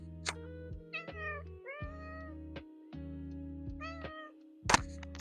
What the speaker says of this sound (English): My cat, Coraline Jones.